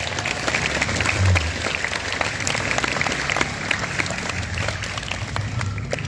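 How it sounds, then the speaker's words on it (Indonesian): Students at a junior high school orientation session in Tangerang applaud together, a dense sustained burst of clapping that continues steadily from start to finish. "Iya, tepuk tangan untuk kalian semua."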